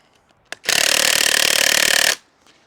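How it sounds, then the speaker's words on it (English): RIDGID R86221 high-torque impact wrench drives a fastener into a log in one loud, close burst of rapid hammering impacts lasting about a second and a half, followed by quiet. "Oh yeah, the RIDGID drives it down a lot faster"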